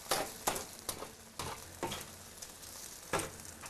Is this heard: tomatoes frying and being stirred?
yes